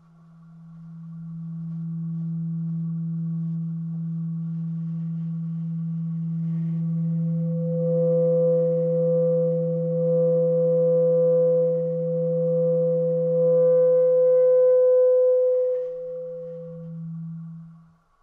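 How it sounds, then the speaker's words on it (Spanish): Saxophone sounding a two-note multiphonic, a long sustained low tone joined midway by a steady higher pitch, the two held together alone before thinning back to the low note. "El primero será el multifónico de 2 sonidos."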